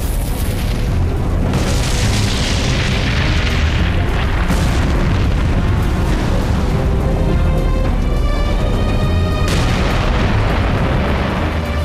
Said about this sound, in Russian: И остальные тоже начали взрываться.